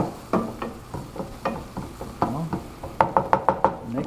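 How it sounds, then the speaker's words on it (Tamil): Onions sautéing and caramelizing in a pan for kothu parotta, a spatula scraping and knocking against the pan in irregular strokes over a low sizzle, ending in a quick burst of rhythmic taps. "நல்லா வதக்குங்க. வெங்காயம் நல்லா காரமலைஸ் ஆகணும்."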